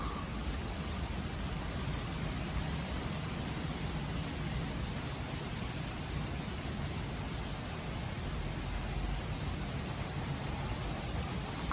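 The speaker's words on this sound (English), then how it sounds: "Oh, it's raining." Foggy outdoor rain, a steady broadband hiss of falling drops that holds at an even level throughout, dense and unbroken with no voices over it.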